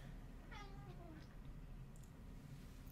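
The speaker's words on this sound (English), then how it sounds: "The cats are, they're ready for lunch and they're ready for play." A hungry cat gives one drawn-out, falling meow near the start, fairly soft and close, over a steady low background hum, followed by a couple of faint fainter mews.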